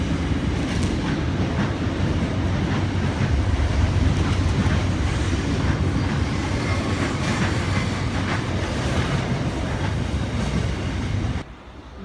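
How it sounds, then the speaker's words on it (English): Sydney Waratah electric train set A76 pulling out of platform 1 at Eastwood station, a steady rolling rumble with rhythmic wheel clatter heard close, fading out at the end. "Waratah set A76 departing platform 1 for a central service."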